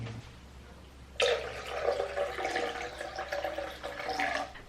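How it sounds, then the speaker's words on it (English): Warm water poured from a container into a flour mixture for sourdough bread dough in a home kitchen, starting abruptly as a close splashing gurgle and running as a steady pour for a few seconds, alone without talk. "So now what I'm gonna do is add the water into the flour mixture."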